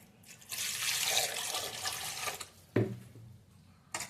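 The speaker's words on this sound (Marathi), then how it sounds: "एका कुकर मध्ये ठेवायचे आणि 1 ग्लास पाणी ओतायचं" A glass of water poured into a pressure cooker makes a close, steady gushing splash lasting about two seconds, followed by a sharp metallic knock and a brief clatter.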